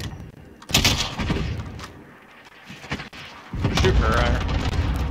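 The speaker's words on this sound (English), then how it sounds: "Allied forces strike incoming." Airstrike explosions and gunfire crash through a Warzone match, loud booming bursts with rumbling tails, first near the start and again near the end, while a player talks over the chaos.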